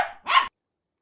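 A dog gives two short barks up close, a clipped first yap followed by a louder, fuller bark, then silence.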